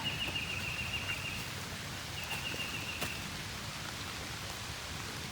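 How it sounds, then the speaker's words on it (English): Steady rain falls outdoors at a garden beside a pole barn house build, a constant hiss with faint birdsong and no talking. "And the rain."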